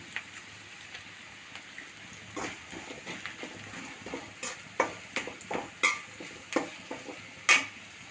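Turmeric and asafoetida powder stirred into a hot frying pan for a potato curry: a steady crackling sizzle with repeated scraping stir strokes that grow more frequent and louder, with no talking.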